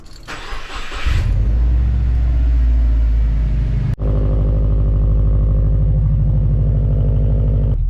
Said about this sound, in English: I just got to move my car out of the carport and park it, I don't know, out on the road there